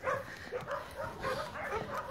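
Several dogs barking and whimpering at an animal shelter for homeless dogs, a busy overlapping chorus of yips and barks at moderate distance.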